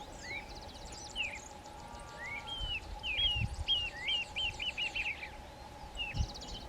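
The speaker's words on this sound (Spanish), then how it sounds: "Destacaban allí una pareja de chinchero chico, que andaba alborotada con la llegada de la primavera." A pair of narrow-billed woodcreepers calls from trees on a rural spring morning, a run of clear, rising whistled notes repeating in a quick series at moderate distance, with other faint bird chirps and a steady low hum behind.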